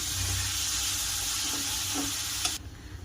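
Minced chicken keema sizzling steadily in a pan with fried onions while being slowly stirred, a loud continuous frying hiss with a couple of scraping touches near the end before it drops off.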